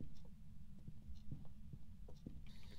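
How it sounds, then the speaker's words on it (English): A low, muffled heartbeat pulses steadily in a dim hum in a spooky game basement, a soft rhythmic thudding repeating roughly every half second at low volume. "I hear a heartbeat thing."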